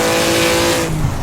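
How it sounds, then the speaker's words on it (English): A Maserati in the Assetto Corsa racing game revs hard in first gear near the redline, a loud sustained engine whine with steady harmonic tones that drops in pitch toward the end as it shifts down. "really revved it out there in 1st gear"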